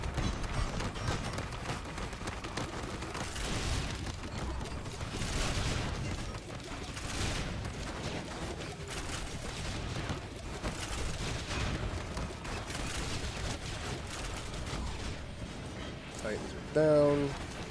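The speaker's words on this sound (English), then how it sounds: "Let our turrets do some work." Automated turrets fire in Risk of Rain 2, sending out rapid, repeated bursts of gunfire and booms throughout, with a voice talking over the combat.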